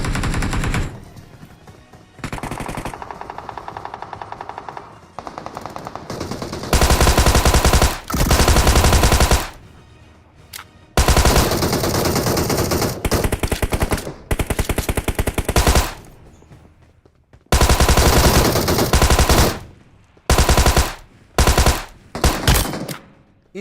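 Heavy automatic gunfire in a battle-royale style video game, loud sustained bursts of rapid shots broken by short pauses, with no talk over it.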